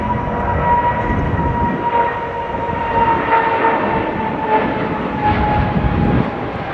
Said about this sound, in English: British Airways 777-200, and that is going to Boston.